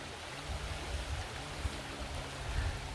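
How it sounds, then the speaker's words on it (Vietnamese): A stream flows beside a Tày village in Vietnam, its water eroding the bank around exposed tree roots; a steady, even rushing and babbling continues throughout with no voices. "Đây là con suối ở làng Tày."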